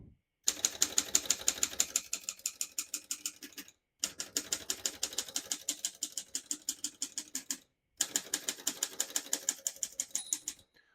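Rapid keystrokes on a 1933 Corona 4 vintage portable typewriter clatter in three quick bursts separated by short pauses, crisp and close, with no voices.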